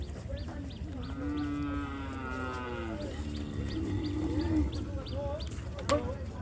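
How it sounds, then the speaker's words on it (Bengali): Cattle lowing loudly and repeatedly as they are unloaded from trucks in mud at the Hazratpur cattle market in Bangladesh, long bellowing moos amid crowd noise and some talk. "গাড়ি থেকে গরু নামতেছে।"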